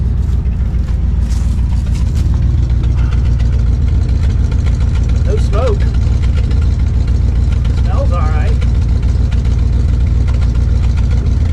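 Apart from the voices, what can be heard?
1977 Dodge Power Wagon engine idling, glass pack exhaust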